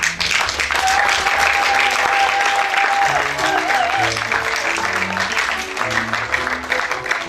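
A congregation claps together during a wedding service, a broad, sustained wash of applause with organ or keyboard notes and a sung melody running through it.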